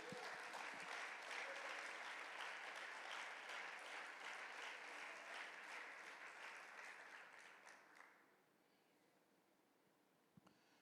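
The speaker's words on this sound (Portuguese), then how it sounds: "Aplauda o nome de Jesus." A large crowd claps steadily and loudly for several seconds, then the applause fades away into near silence.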